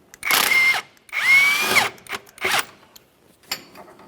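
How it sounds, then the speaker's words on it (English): A power tool whirs in several short close bursts, the first two longest, while removing a 13mm engine mount bolt on a 2007-2017 Jeep Patriot with the 2.4L four-cylinder, with quiet gaps between pulls. "we can continue on with removing our 13mm mounting bolt"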